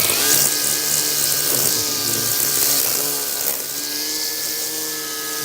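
A string trimmer whines steadily and loudly while cutting a lawn, its high engine buzz holding constant with slight pitch shifts throughout, close and without speech.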